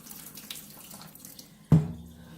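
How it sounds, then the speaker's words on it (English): Tap water runs into a kitchen sink as canned beans are rinsed, a soft steady stream that swells into a louder, splashing gush near the end. "So I'm just going to rinse these off one more time"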